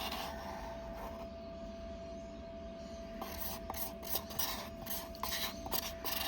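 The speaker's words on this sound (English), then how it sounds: "so I'm just going to just scrape that out" A thickened mica powder resin mixture is scraped out of a container with quiet, repeated rasping strokes that become more distinct in the second half.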